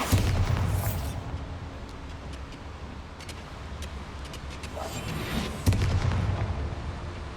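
Bombarda blasting spell in Hogwarts Legacy, going off in booming bursts at the start and again near the end, with a dense rumbling wash of explosive noise in between.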